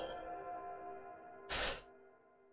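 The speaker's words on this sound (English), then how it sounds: "Classic PlayStation sound." A classic PlayStation console sound: a sustained soft tone under a faint hum, then a short bright swell that fades, heard alone and fairly quiet.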